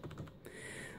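A few quick, soft keystrokes on a Compaq LTE 5280 laptop keyboard, muffled clicks in a short burst, faint and close, followed by quiet background hum.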